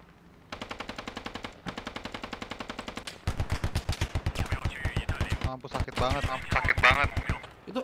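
Remote weapon station machine gun in the Squad video game firing long, rapid, evenly spaced bursts, first a lighter stream and then a heavier, louder one, with voices talking over the later shots.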